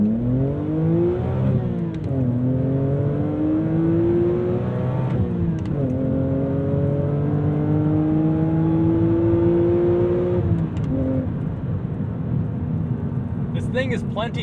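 A modified 2007 BMW Z4 M Coupe engine pulls hard through the gears, loud rising engine tone climbing steadily, with brief dips at each upshift before climbing again, heard from inside the car.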